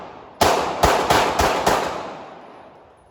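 Five loud, sharp gunshots at a gun range, fired in a quick, slightly uneven series, each with a short ringing tail that fades out after the last shot.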